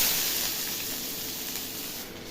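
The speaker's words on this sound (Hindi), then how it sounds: "मैंने ज़ीरा डाला है तेल में" Cumin seeds tempering in hot oil for a night-time dal tadka, giving a steady, close broadband sizzle and hiss that slowly fades a little over its short span, with no voices.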